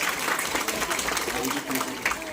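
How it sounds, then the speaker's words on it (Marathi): A crowd applauds youths who carried a ceremonial torch on foot at a village welcome event, dense continuous clapping close and fairly loud, with voices mixed in. "जोरात टाळ्या वाजल्या पाहिजे"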